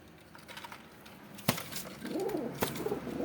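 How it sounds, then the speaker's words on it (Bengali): A few pet pigeons coo softly nearby, with low warbling calls rising in the second half, while a couple of sharp taps sound in the quiet background. "আমার এই 4টে শখের কবুতর।"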